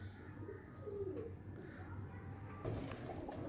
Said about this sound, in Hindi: ये है गहना कबूतर।